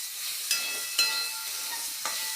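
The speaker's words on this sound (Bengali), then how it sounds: "কুমড়োটা ভালো করে ভেজে নিই" Pumpkin pieces frying in hot oil in a home kitchen, a steady close sizzle and hiss with a few sharp crackles and pops rising above it.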